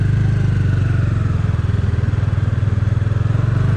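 A motorcycle setting off on a ride near the India–Nepal border, its engine idling in a steady, loud, close thumping pulse that holds evenly throughout with no talk.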